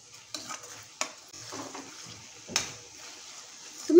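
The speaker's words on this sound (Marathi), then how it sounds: "मसाले आपण 1 मिनिटभर छान असं परतून घ्यायचे आहे." Spices being sautéed in a pan for a sprouted green moong sabji, with scraping stirs and soft sizzling, a few sharp utensil knocks against the pan, and a louder clatter at the end.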